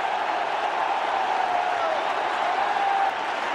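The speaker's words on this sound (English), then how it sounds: "the crowd here are on their feet" A large stadium crowd at Eden Gardens cheers and roars steadily during a Test cricket match between India and Australia, a dense, continuous wall of noise with applause that swells slightly and holds.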